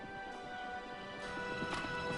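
A racehorse on a Kentucky farm clip-clops quietly, its hooves landing in a faint, uneven rhythm against a noisy background.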